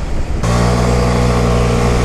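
A Vespa 125cc scooter on the outskirts of Rome is pushed to full throttle, its engine snapping from a light idle into a loud, steady, buzzing drone that holds close and strong without any voices.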